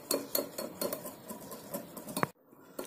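A spoon whips dalgona coffee batter in a bowl, striking the sides in a quick, regular run of metallic clinks and scrapes before stopping abruptly.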